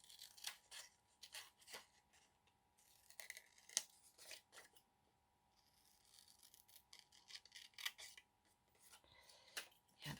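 Scissors snipping through paper tags for book page pockets, a steady series of quiet crisp cuts and rustles, close up with no talking.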